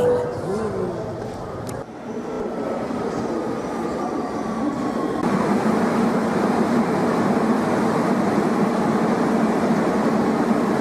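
A London Underground tube train rumbles steadily, its roar swelling louder partway through as it picks up speed, with faint voices underneath.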